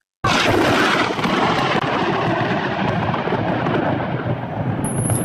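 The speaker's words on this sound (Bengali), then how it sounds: "আকাশে মেঘ ডাকা শুরু" Thunder breaks out suddenly during rain, a loud close crack that rolls into a long, heavy rumble fading slowly over several seconds.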